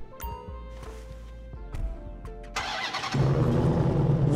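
A car engine in the video game GTA 5 starts with a few clicks and a crank, then catches and settles into a loud, steady rumble that grows fuller toward the end.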